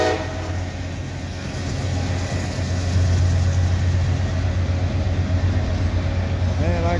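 A mixed freight and auto-rack train out of Hamlet rumbles steadily past at close range, a low continuous roar that swells midway, with a brief rising horn call near the end.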